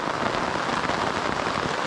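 Rain falls steadily and fairly heavily on a canoe trip, a dense, even patter of drops hitting surfaces close by. No voices are heard over it.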